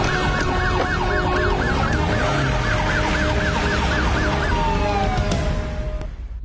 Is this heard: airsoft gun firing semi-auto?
no